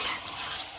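Chicken gravy fries and sizzles in a pan, a bright, hissing crackle that stays close and steady for a brief moment.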